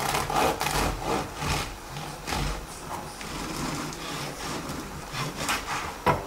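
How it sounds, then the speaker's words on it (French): A bread knife saws through a thick slice of ordinary bread, giving soft, repeated rasping strokes that are close and fairly quiet, with brief pauses between them. "Avec un couteau à pain, c'est mieux."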